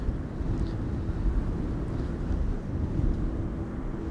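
Strong wind at Amsterdam Schiphol Airport buffets the microphone with a heavy, continuous low roar that swells and eases, without talk.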